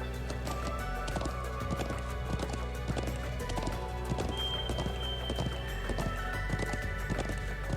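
Rhythmic clip-clop of horse hooves rides steadily along in Trails of Cold Steel II, two riders sharing each mount, with a steady galloping beat over a low ambient music bed and an occasional whinny.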